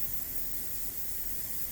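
An airbrush sprays paint at about 10 to 12 psi while painting WW2 German camouflage on a Sd.Kfz.251 model, a steady faint hiss that continues evenly throughout.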